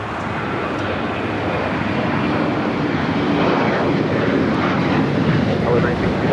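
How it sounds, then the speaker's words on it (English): An Alaska Airlines jet taking off at Los Angeles airport, bound for Guadalajara, gives a loud, continuous broadband engine roar that stays steady and swells slightly over the whole stretch, heard from fairly close. "This is Alaska Airlines Flight 1418 taking off to Guadalajara"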